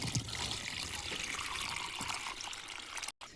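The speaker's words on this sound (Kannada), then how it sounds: "ಹಾಕು, ನೀರು ಹಾಕು." Water pours steadily into an organic spray mixture of cow urine and sour buttermilk, a continuous splashing trickle that holds close and even, then cuts off abruptly near the end.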